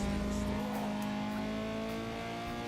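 A car engine in the Need for Speed Underground 2 video game with a Volkswagen VR6-style sound, a steady, loud droning tone that holds at high revs without a break.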